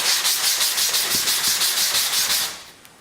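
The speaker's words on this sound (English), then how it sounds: "in an X pattern to sand this out and basically provide a nice uniform surface." Hand sanding of a fiberglass panel with a sanding block, a steady run of close, rhythmic scratchy back-and-forth strokes that fade out near the end, with no voices.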